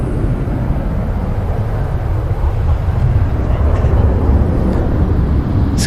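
A jet airliner climbing out after takeoff at Manchester Airport, a steady broad engine roar holding at a fairly constant level throughout, with no talk over it.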